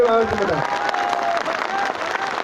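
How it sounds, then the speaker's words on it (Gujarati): Crowd claps at a political rally in Agthala village, Lakhani taluka, with a politician. Dense applause runs steadily throughout, and a brief voice or tone sounds at the start. "જોરદાર તાળીઓ પાડો તો જ ખબર પડે કે અમદાવાદ"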